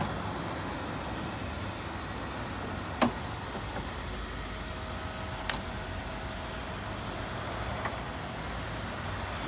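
A Jeep Wrangler engine idles with the bonnet open, a quiet, even low rumble with a few faint clicks and taps over it.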